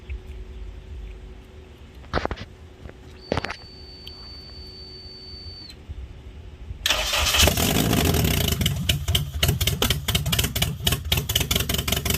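A Honda Integra fitted with a K24A engine sits quietly through a few sharp clanks and a brief tone, then the engine cranks and fires, settling into a loud, close, rough rumbling idle.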